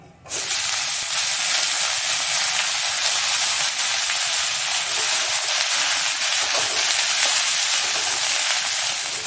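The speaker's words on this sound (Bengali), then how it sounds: "এবার দিয়ে দেবে এখানে বাঁধাকপি কুচানো বাঁধাকপিটা দিয়ে দেবো ধুয়ে রাখা" Chopped, washed cabbage hits a hot pan of fried ginger with a loud, steady sizzle and hiss that starts abruptly and carries on close and unbroken.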